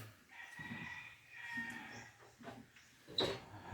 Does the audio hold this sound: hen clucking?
yes